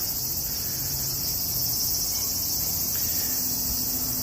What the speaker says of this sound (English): you can hear the cicadas in full force, right?